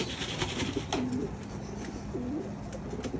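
Racing pigeons at a loft in Baliwag, Bulacan, during training: soft, low coos repeat close by over a constant hiss of outdoor background noise.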